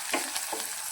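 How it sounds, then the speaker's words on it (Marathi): Chopped onion frying in oil in a pan for a traditional Maharashtrian vegetable dish, a close soft sizzle with a couple of quick stirring scrapes in a single brief moment. "तर सर्वात पहिले आपण कांदा भाजून घेऊया"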